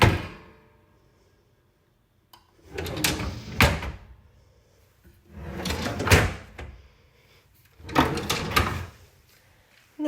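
Cutlery drawers in a cleaned rental kitchen are opened and shut, giving three separate bursts of sliding rattle and a bump, spaced a few seconds apart after a quiet start.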